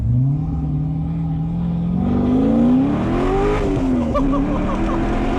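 An LS V8-swapped widebody Porsche 911 pulls away and accelerates, its engine droning and rising in pitch with a shift partway through, loud and close as if heard from inside the car.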